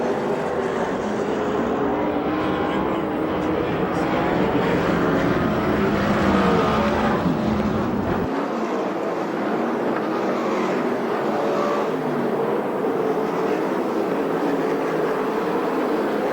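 USAC/CRA sprint car engines roar around the track at Perris, California, a loud, continuous, droning race-engine noise with passing swells and no talk.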